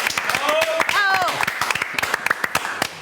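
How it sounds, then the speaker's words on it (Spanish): A live audience welcomes physicist Fernando Lombardo to a lecture on the vacuum with short, scattered clapping, the individual claps sharp and distinct, partly overlapping a voice speaking. "lo recibimos con un fuerte aplauso"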